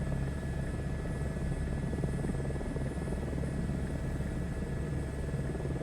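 A helicopter flies overhead in Microsoft Flight Simulator 2024, a loud, steady rotor drone and engine whine holding constant throughout with no talking.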